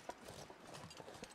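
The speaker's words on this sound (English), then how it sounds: "I knew I heard footsteps, but that's a deer." Deer hooves step across the ground in The Long Dark video game, faint and quiet, with soft irregular footfalls over a dull ambient background.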